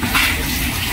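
Water running steadily from a leak in a storeroom, a continuous close wash of splashing with no other sound.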